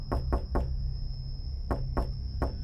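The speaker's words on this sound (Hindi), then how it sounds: "अगले ही पल दरवाजा किसी ने जोर से पीटना शुरू कर" Heavy pounding on a door in an animated Hindi horror story: two bursts of three loud, booming knocks, close and separated by a brief gap, over a steady electronic hum.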